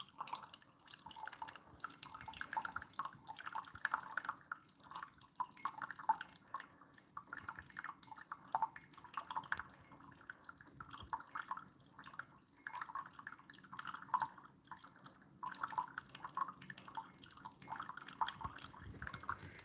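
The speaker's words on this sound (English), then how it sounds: "When it brews it slower, you do get drips coming out all over the place." Keurig K Supreme coffee maker brewing slowly, with faint, irregular drips of coffee falling steadily for about twenty seconds in a quiet room.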